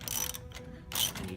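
Ratchet tool clicking as it tightens a nylock nut on an Italkart kart chassis, a short burst of quick close clicks with a brief pause between two runs.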